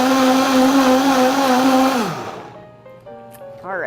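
A blender whirs loudly, churning vegetable scraps with stock, then its motor pitch drops as it spins down and stops, leaving a faint rattle at the end.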